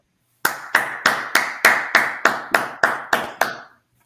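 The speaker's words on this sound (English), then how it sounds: "with a Jock Brothers round of applause" Ten evenly spaced, crisp claps ring out alone to welcome a guest minister, a single sharp rhythmic round with a short decay after each clap before silence.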